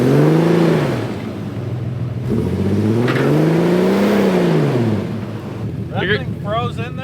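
A Ford car stuck in snow revs hard in two long rising-and-falling surges, its engine note sweeping up and down, with brief voices breaking in near the end.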